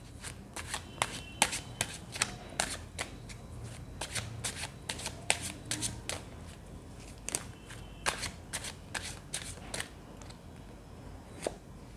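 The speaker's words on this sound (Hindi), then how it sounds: "जब तक मैं कार्ड शफल कर रही हूँ" Tarot cards being shuffled by hand, a fast run of crisp riffling flicks and bursts repeating steadily for several seconds, close and fairly quiet, without talking.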